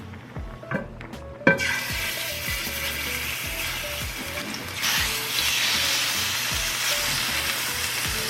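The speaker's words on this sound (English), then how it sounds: "so let's give this a stir" Food sizzles in a pan while a utensil scrapes and clicks against the pot, the frying hiss swelling louder partway through.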